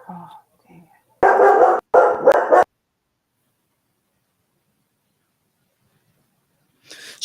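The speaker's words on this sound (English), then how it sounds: "Shut that dog up." Dog barking in two loud, close bursts, briefly preceded and followed by faint voices, with silence in between.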